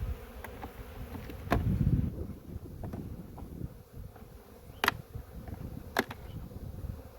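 Honey bees hum and drone close by at an open hive in a continuous buzzing swarm, with occasional sharp clicks and knocks cutting through.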